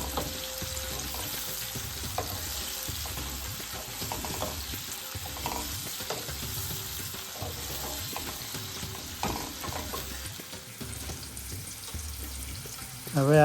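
Chopped green capsicum sizzles in a pan with turmeric for a Gujarati chickpea-flour stir fry, a steady frying hiss broken by the scrape and clatter of a spoon being stirred through it.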